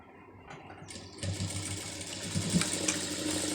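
A sewing machine stitches lace onto a sleeve, starting slowly and then running in a steady, fast mechanical whir. The sound is close and moderately quiet, with no talking.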